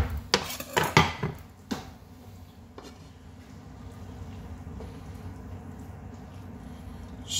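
Tomato pasta spooned onto a plate: a few clattering knocks of a spoon against the dish at the start, then quiet, soft scraping and faint background hum.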